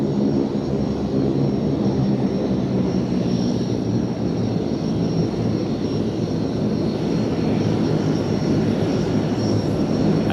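A large aircraft taxiing at an airfield, a steady, loud broadband engine roar that holds evenly for about ten seconds with no talk over it.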